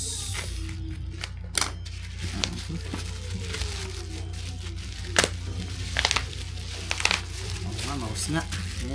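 A handful of sharp, isolated clicks from a computer mouse, spaced irregularly over several seconds against a steady background hum.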